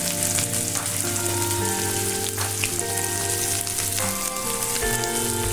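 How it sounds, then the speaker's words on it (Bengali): Chopped onion added to hot oil with fried dried red chilli, giving a dense, steady sizzle with crackling pops, close and continuous, while a background tone hums underneath. "তো আমি লঙ্কাটা ভাজা হয়ে গেছে, আমি পেঁয়াজ কুচিটা এতে দিয়ে দেব।"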